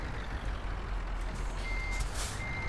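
A heavy articulated truck backs into a parking spot in Euro Truck Simulator 2, its reversing alarm sounding over a steady low engine drone, with a hiss of air brakes near the end.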